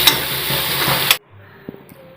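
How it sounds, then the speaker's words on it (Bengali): Carrots and peas fry in a pan with a loud, dense close-up sizzle for about a second before it cuts off abruptly, leaving near silence with a few faint clicks. "গাজর তারপর তোমার হচ্ছে মটরশুঁটি এগুলো সব ভেজে নিচ্ছি"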